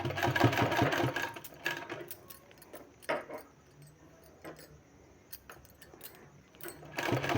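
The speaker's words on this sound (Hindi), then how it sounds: "बिल्कुल सेंटर में हमको सिलाई लगाते जाना है" A sewing machine runs in short bursts while stitching a design into a sleeve, with a continuous whirring run near the start, then quieter pauses and intermittent clicks and mechanical rattles up close.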